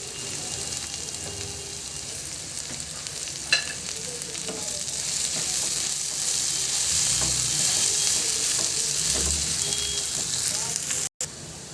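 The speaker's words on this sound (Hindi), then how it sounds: "अपने प्याज को भून लेंगे" Onions and green chillies fry in a pan for egg rolls, a loud, steady sizzle with occasional scrapes and stirring clinks close by.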